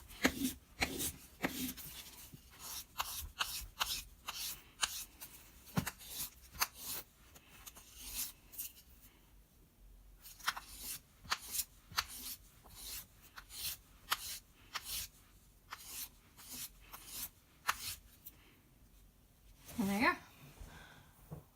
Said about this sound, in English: wonderful little sand job, and it's work, yes. It's a lot of work